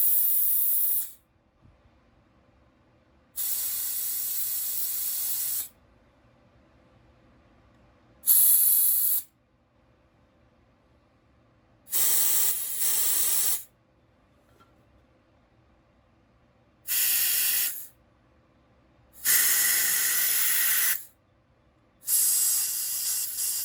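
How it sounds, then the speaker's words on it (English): Compressed air at about 20 PSI blowing debris out of a Homelite XL-12 chainsaw, loud steady hissing bursts of a few seconds each, repeated seven times with quiet pauses between. "I've got about 20 PSI dialed up on the compressor, and we're just gonna blow all this out."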